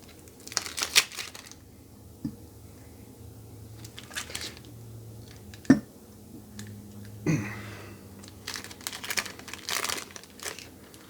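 Crinkly foil wrapper of a Magic: The Gathering booster pack rustles and tears in short bursts, close and fairly quiet, with a couple of sharper snaps in between.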